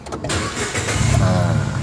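A Nissan March engine cranking and catching after a new key is programmed, a short starter whir followed by a steady idle, close and loud with someone talking over it.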